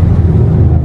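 Mitsubishi Triton Exceed double cab pickup from 2016 with a manual gearbox, heard from inside while it crawls along a busy, congested road: a steady loud low engine and road rumble, no voices.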